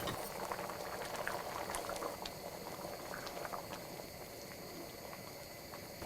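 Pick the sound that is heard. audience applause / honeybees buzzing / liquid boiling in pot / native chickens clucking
liquid boiling in pot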